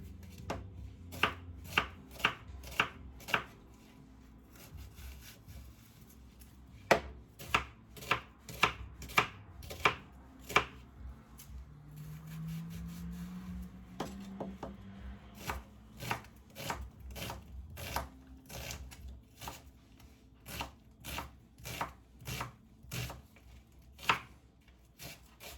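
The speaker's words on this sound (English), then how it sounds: "the garlic, chop it roughly, and chop the onions." A kitchen knife roughly chops crushed garlic and onions on a cutting board while preparing homemade pizza, with sharp close strikes in irregular bursts and short pauses, quiet and without talk.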